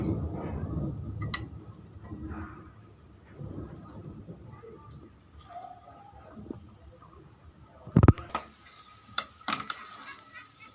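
Egg paratha being cut into pieces on a pan over a slow flame: soft scraping and faint sizzle at first, then sharp metallic clacks of a utensil against the pan near the end, loud and close.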